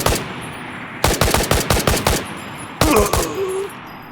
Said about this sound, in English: Contact! Enemy fire!